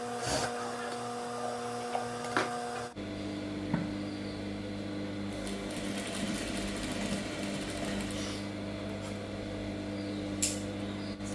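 A sewing machine stitches lining fabric for a saree blouse, its motor humming steadily throughout with a faster, busier stitching run in the latter half.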